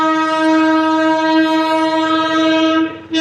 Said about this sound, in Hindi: दिख गया ना टॉय ट्रेन।